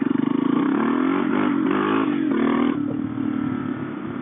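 A Suzuki DR650 motorcycle engine accelerating hard, loud and close, with a steady, throaty revving drone that holds for several seconds; no talking.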